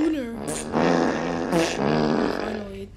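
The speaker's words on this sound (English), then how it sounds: "Finally, it lets us fart in." Cartoonish fart sound effects from the Roblox game Fart Attack, a few loud low rumbling bursts in quick succession, mixed with game noise and voices.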